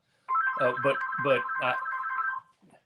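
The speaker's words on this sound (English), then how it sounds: "I got a phone ringing" A telephone rings with a steady electronic tone during a radio call-in show, while a voice talks over it close by.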